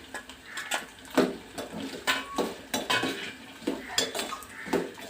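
Rhythmic scraping and clanking of a spoon mixing garlic rice in a pan, a steady series of close, sharp strokes roughly every half second with no talk.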